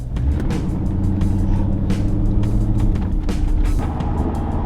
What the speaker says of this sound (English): Oh, I like that backfire.